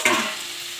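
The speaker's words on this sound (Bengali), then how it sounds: "দেখতেই পাচ্ছেন কখন থেকে নাড়াচাড়া করছে, কষাকষি হচ্ছে শাকটা।" Pumpkin leaf greens being stirred and fried in a pan, giving a brief close scraping stir with a soft sizzle that fades out, no talk.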